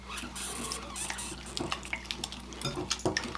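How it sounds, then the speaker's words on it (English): Corn syrup peanut pie filling is whisked in a bowl, with quick clinks and taps of a whisk against the bowl, fairly close and moderately loud. "And then we're just going to whisk that together"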